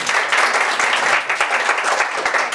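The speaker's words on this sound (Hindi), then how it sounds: "एक बार दोनों के तीनों के लिए जोरदार तालियां हो जाए" Audience applause at a school annual function, a dense steady wash of many hands clapping at once, loud and continuous for the whole stretch with no voices over it.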